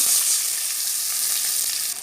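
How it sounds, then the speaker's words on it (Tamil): Loud, steady sizzle as half a cup of water hits a hot pan of sautéed potato curry, a continuous bright hiss lasting about two seconds with no voices. "இப்போ நம்ம வந்து தண்ணி ஊற்றிக்கலாம் ஒரு அரை கப் தண்ணி"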